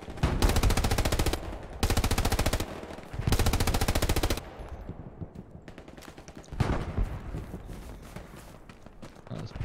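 Long automatic rifle bursts in the video game Hell Let Loose hammer out in three sustained strings, loud and close. Scattered, more distant shots and clatter follow.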